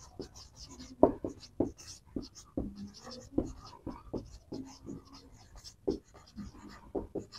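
Marker or chalk strokes writing an equation on a classroom board: a busy run of short scratching and tapping strokes at an uneven pace, fairly close, with no talking.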